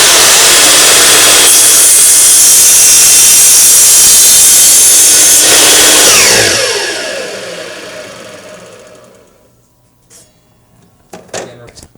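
A miter saw blade spins up loud and steady while making a bevel cut through wood, then winds down and fades, ending with a few faint clicks and knocks.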